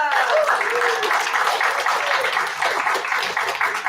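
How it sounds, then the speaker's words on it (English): Congregation at a Sunday church service breaking into applause, steady clapping from a crowd heard throughout with a voice speaking over it. "Give a round of applause for Alan"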